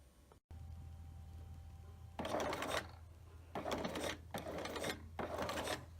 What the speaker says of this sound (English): Sew a few stitches forward and backwards.